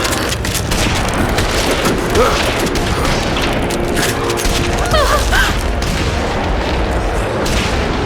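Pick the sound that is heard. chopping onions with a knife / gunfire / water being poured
gunfire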